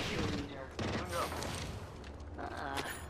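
Gunfire in the video game Apex Legends, bursts of rapid shots and thumps in a busy firefight, fairly loud and continuous, mixed with other game effects.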